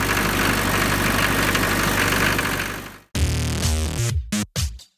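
An old 3B diesel engine idles after a cold start at -35C in Siberia, a dense steady rattling clatter that cuts off abruptly, then gives way to choppy bursts of a rougher, stuttering knock with brief dropouts.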